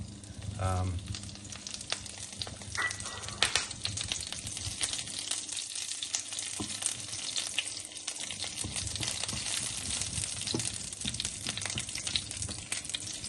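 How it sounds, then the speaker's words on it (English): Curry leaves sizzle and fry in melted ghee in a pan, a steady close crackling hiss that runs throughout with faint stirring. "So you saute the curry leaves."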